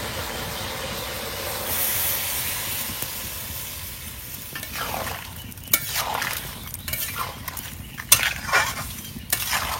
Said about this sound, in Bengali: এখন তরকারি নাড়াচাড়া হয়ে গেছে, দিয়ে দেবো একটু জল